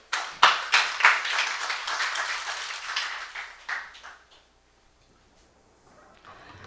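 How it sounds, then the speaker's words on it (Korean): Applause from a seminar audience welcomes a speaker, starting with sharp close claps that build briefly, then thin out and fade to near silence. "큰 박수로 환영해 주십시오"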